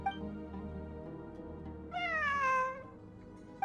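A cat meows once in a long, rising-then-falling cry, fairly clear against a low background rumble in abandoned ruins.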